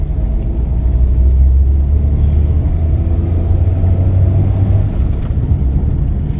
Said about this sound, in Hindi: जैसे मैं एक्सीलेटर को प्रेस करूंगा तो अपनी कार कैसे पिकअप लेती है